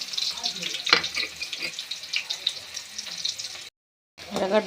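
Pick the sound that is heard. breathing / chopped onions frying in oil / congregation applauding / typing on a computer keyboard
chopped onions frying in oil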